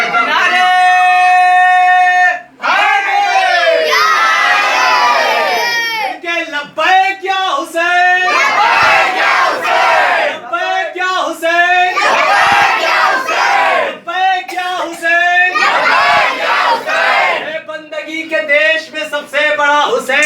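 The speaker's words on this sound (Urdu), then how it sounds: "نعرے حیدر" A large majlis crowd in Bala Ganj, Lucknow chants a religious slogan in loud, rhythmic shouted bursts, voices swelling together and pausing briefly between calls, with some surrounding chatter.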